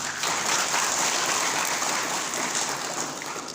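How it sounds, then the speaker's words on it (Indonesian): Audience applause at a seminar gathering, dense clapping from many hands that swells quickly and holds steady, then eases slightly toward the end, with no speech over it. "Tepuk tangan untuk kita semua."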